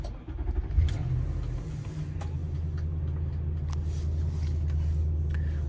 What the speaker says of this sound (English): from here I'll start the vehicle up.